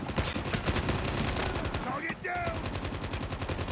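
Rapid automatic gunfire from the mobile shooter game Call of Duty Mobile, dense bursts of shots running almost continuously and loud, with a brief gap and a few metallic game effects midway.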